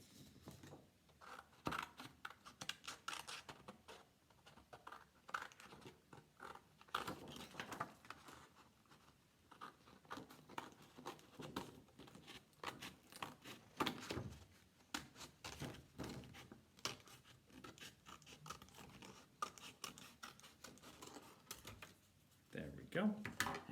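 Scissors cut out paper circles with a run of quick, uneven snips and paper rustles, close and continuous, while a person talks throughout.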